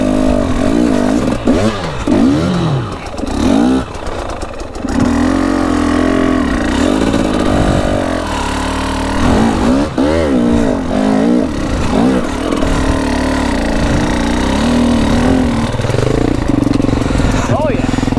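An enduro motorcycle climbs a steep uphill trail off-road, its engine revving and surging in bursts with clattering and scraping over rough ground, while a rider talks loudly over the noise throughout.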